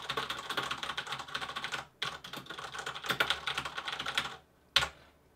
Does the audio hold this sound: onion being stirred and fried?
no